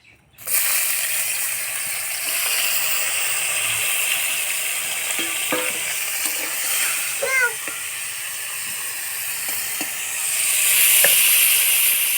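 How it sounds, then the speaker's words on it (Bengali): Steady sizzling hiss of fish frying in hot oil, continuous and fairly loud, with a few faint chirpy squeaks partway through. "আমি মাছটা ভাজি নিব"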